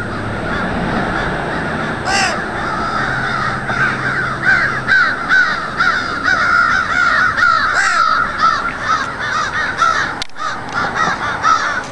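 A crow caws loudly and repeatedly outdoors, with harsh calls coming in irregular bursts over steady background noise and no one speaking.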